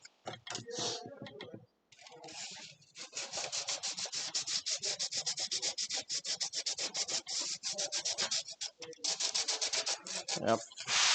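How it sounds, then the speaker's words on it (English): Rust and paint being sanded off metal armor plates in a workshop, a steady, close scraping rub in rapid repeated strokes that runs almost continuously with only brief pauses. "just sanding it off."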